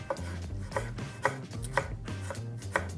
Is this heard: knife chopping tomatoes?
yes